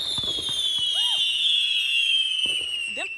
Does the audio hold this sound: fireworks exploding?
yes